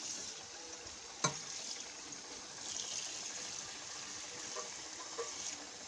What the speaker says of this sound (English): It's in a colander, so the water's going out in the sink.